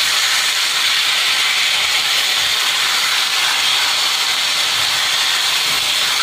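Marinated mutton with yogurt and onions hitting a hot pan, giving a loud, steady, close sizzle that hisses continuously with no talk over it.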